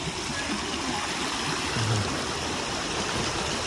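Stream water at Vattayi waterfall near Wadakkanchery, a steady broadband rush and gurgle flowing without a break, moderately close and unaccompanied by voices.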